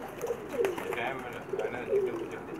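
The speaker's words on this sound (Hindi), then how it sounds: "देख के ही पता चल जाता है कि कबूतर कैसे हैं" Pigeons coo softly in a few low rounded calls at moderate distance, over a faint background hiss.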